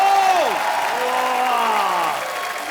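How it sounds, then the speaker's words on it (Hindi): A studio audience at a comedy talk show claps and cheers steadily, with a lively crowd roar under a sustained musical sting. "जोरदार तालियां यामी, ऋतिक सर और उर्वशी के लिए"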